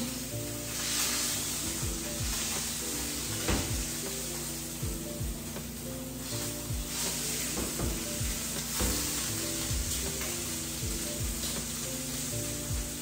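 Meat sears in a frying pan with a steady, dense sizzle and crackle up close, interrupted now and then by scraping stirs and utensil movements, and no talk.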